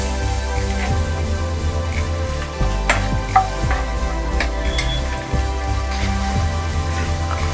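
Dry fruits fry in a little ghee in a kadhai, giving a continuous soft sizzle over a low steady hum, with occasional clinks and scrapes of a spoon stirring.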